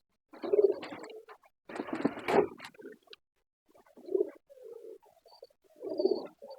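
Pigeons coo in several short, low, soft bursts spaced across a few seconds during a cleaning of droppings stuck to their feet, with a brief scuffling flurry among them and no talk.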